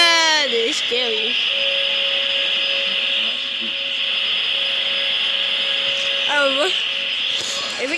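Robot vacuum cleaner running indoors, a steady high whirring drone with a constant tone, while people talk and exclaim over it.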